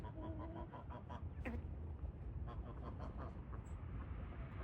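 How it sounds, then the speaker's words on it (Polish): A silver Italian-breed rooster clucking in short repeated calls over a steady, loud rumbling background, close to the listener. "I jeszcze nasz kogucik."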